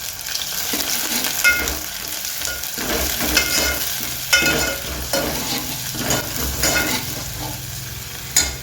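Curry leaves, green chilies and coriander hit hot oil in a pan with a loud, continuous sizzle and crackle, broken by repeated scraping stirs and clattering spoon knocks, close and without talk.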